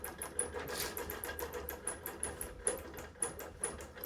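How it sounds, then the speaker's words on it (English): A long arm quilting machine stitches a Flying Geese quilt in a fast, even mechanical rattle with regular clicking beats, quiet and close, running alone with no talking. "now it's gonna just start stitching"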